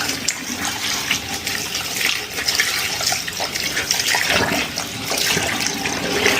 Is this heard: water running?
yes